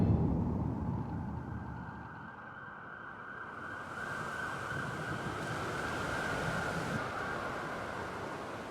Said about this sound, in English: 155 km/h winds push water up on shore.